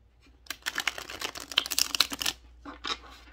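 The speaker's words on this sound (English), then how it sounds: "Let me just shuffle this one time." A deck of tarot cards is shuffled by hand in a quiet room, a quick crisp run of riffling clicks and flutters rising and falling over a few seconds.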